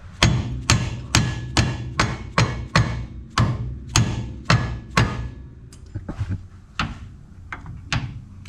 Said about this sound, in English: Then you just give them a little tap with a rubber mallet.